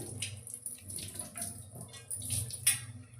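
An iron dosa pan being washed under running water, a soft, continuous splash and trickle of faucet water close by, fairly quiet, with no talking.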